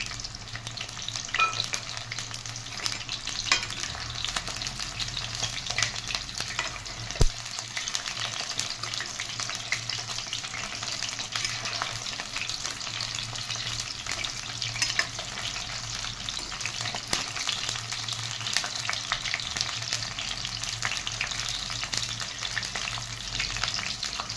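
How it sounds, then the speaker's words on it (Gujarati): Whole onions for a sabzi sauté in a pan with a continuous crackling sizzle and intermittent stirring scrapes, one sharp knock partway through, no talk. "થી ત્રણ મિનિટ આપણે એને સાતરી લઈશું"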